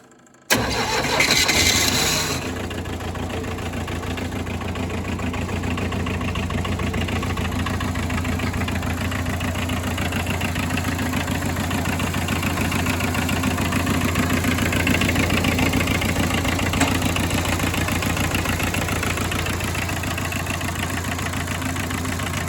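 A homemade 4x4 loader with glow plugs cranks briefly, catches and fires up, then settles into a steady, close, rumbling idle that runs unchanged to the end.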